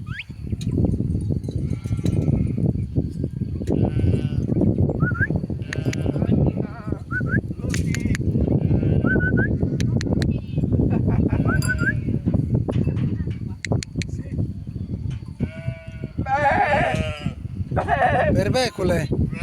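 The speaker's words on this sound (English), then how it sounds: "Sheep and Goats." Sheep and goats bleat repeatedly on a traditional sheep farm, the calls close and clear, rising over a steady bed of people talking throughout.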